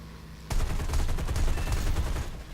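An aircraft cannon fires in War Thunder as a sudden, loud, rapid burst of booming shots that starts abruptly and rattles on steadily for about two seconds before easing off.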